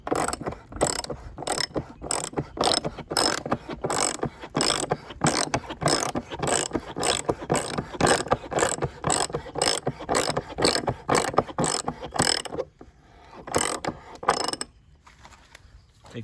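Ratchet tightening a clamp on a pool filter, a rapid run of loud close clicking strokes in steady rhythm for about twelve seconds, then a few slower final clicks and quiet.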